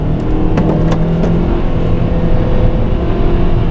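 A Kia K3 car engine, in manual mode and downshifted, drones at high revs near 5000 rpm, loud and steady throughout, with a rough, strained tone and no voices.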